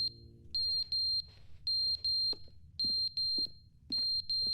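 A button in The Stanley Parable Ultra Deluxe Edition sounds a high, piercing electronic alarm, repeating in pairs of steady beeps separated by short pauses, loud and alone.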